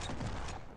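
Rapid gunfire in the Stick Warfare Blood Strike multiplayer game. A brief, faint burst of clustered shots with no talking.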